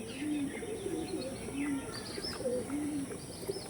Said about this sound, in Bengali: একদম অরিজিনাল আরশাদ লাইনের মাদি দেখাচ্ছি বন্ধুরা, খুবই ওল্ড লাইনের পায়রা